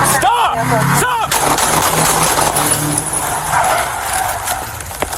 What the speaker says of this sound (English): shots fired, vehicle tried to hit me